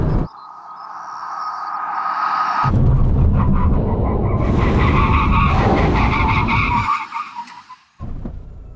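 A Nissan GT-R NISMO braking hard at the end of a drag race, tyres skidding in a long, loud scrubbing screech that holds for several seconds before cutting off, with no voices.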